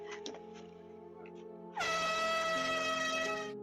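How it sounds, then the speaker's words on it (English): An air horn blasts during a coyote attack on a family dog at a campsite: a loud, sustained, brassy tone cuts in suddenly after quieter background sounds and holds to the end. "the woman in the family grabs an air horn and blasts it"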